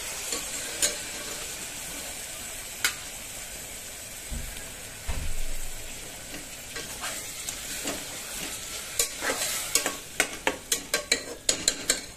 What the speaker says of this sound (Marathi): तर याच्यामध्ये आपल्याला ही 1 वाटी केलेली पालकची प्युरी जी आहे ती घालून घ्यायची आहे.